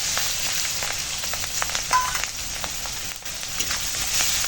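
Chopped onion and green chili sizzle in hot oil with panch phoron, a steady loud crackling fry with small pops throughout.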